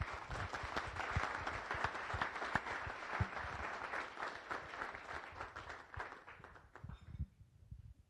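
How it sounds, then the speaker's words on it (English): A crowd claps steadily in sustained applause at a Rotary Club weekly meeting, dense and lively, then tapers off near the end. "give Michael support and love and a big round of applause"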